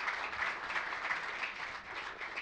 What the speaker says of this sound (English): Ladies and gentlemen, a big round of applause for this panel.